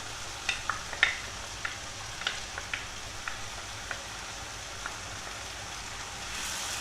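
A spoon stirs chicken and onion stew with diced tomatoes and tomato paste in a pot, giving a quiet run of soft scrapes and light clicks at an uneven pace, with no voices.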